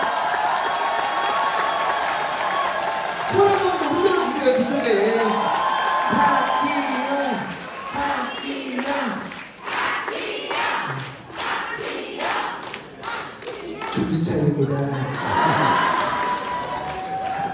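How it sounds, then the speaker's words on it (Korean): Sustained applause from a large concert audience, a dense steady clatter of many hands with a voice speaking over it through a public address system. "우리 박희원 구청장님, 우리 실내 앉으시면 혹시 일어나셔서 박수 한번 받아보시는 건 어떠신가요?"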